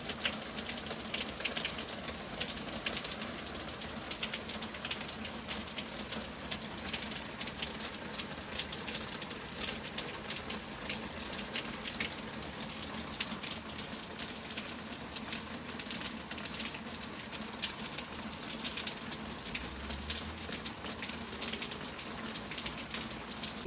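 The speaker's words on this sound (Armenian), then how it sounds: "Ոչ մի աղմուկ, ոչ մի ձայն, բացի անձրևի ձայնից" Rain falls steadily at night in a quiet, dark setting, a faint, even hiss of drops that continues unbroken and alone.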